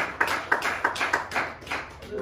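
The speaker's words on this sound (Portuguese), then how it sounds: "Pode sentar e bater as palmas para o Senhor Jesus Cristo." Church congregation clapping their hands in praise, a series of regular claps at a steady rhythm, moderately loud in a reverberant hall.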